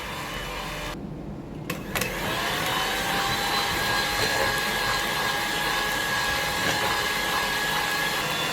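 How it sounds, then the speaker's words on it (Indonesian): An electric mixer beats margarine into rice flour cake batter, a loud steady whir close by that starts with a brief sputter and then runs on evenly. "kita akan memasukkan margarinnya. Sambil kita akan kocok kembali."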